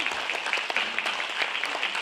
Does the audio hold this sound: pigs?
no